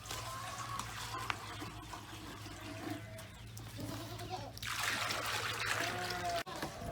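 Water trickling and splashing as a pool is filled for a pig on a farm, faint and continuous with a steady low hum beneath, the splashing swelling louder near the end.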